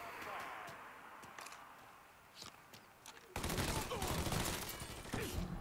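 Gunfire in the video game Mafia 3, scattered sharp shots amid background ambience that give way to a loud, dense burst of fusillade near the end.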